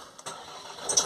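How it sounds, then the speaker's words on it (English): A Ford Transit Custom van with oil in its exhaust starts up in one short burst: a sudden rush of engine noise that settles into a steady, close running hum. "Okay, we're going to start it up."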